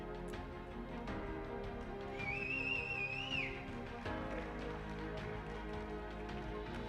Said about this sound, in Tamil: அந்த ஒரு ஆளுக்கு யாரு விசில் அடிச்சது?